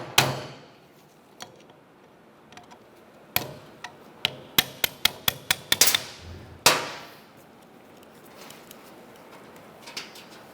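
A hammer knocks at a pin in the steering column shift lever of a 2001-2005 Ford Explorer Sport Trac, giving a series of sharp metallic taps, sparse at first, then a quick cluster of strikes and a final harder blow, close and alone.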